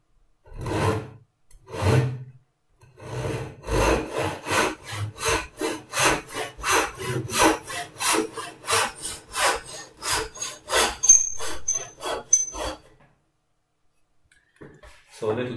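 A hand saw cutting laminated timber held in a vise, a steady run of rhythmic rasping strokes that speeds up into quick, even back-and-forth sawing, close and clear, then stops with brief quiet.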